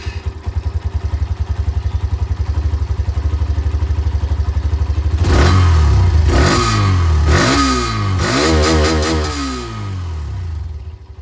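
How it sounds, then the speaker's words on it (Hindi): A Hero Xtreme 125R motorcycle on its stock exhaust idles with a steady, even thump, then revs hard several times in loud rising and falling bursts before settling back, heard close and alone. "ये जो नॉर्मल एग्जॉस्ट आप लोगों को मिलता है इसकी जो आवाज़ है वो भी मैं आप लोगों को यहाँ पर एक बार सुना दूँ।"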